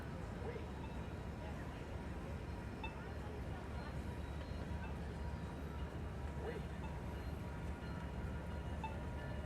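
A train rumbles past a busy street near the Convention Center in San Diego on a summer evening, a steady, moderately distant roar with faint rail squeals and no distinct breaks.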